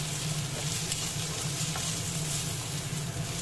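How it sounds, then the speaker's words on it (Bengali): Paneer with Kashmiri and dried red chilli powder frying in a pan for chilli paneer makes a dense, loud, unbroken sizzle over a low steady hum from the stove, with no voices. "এবার একটু ভালো করে এটা ভেজে নিতে হবে।"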